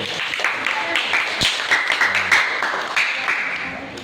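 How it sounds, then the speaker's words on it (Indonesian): Elementary school classroom of sixth graders clapping for a classmate who answered correctly; a short burst of scattered, uneven claps mixed with children's voices and chatter. "Tepuk tangan untuk Wahyu."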